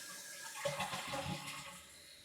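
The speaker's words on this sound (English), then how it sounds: "flush it again" A repaired toilet flushes with a faint gush of water, then a softer rushing as the tank begins refilling, heard close by and alone.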